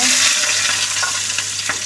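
Chopped green chilies and onions fry in a hot wok, giving a loud, continuous close sizzle with faint stirring and no voices.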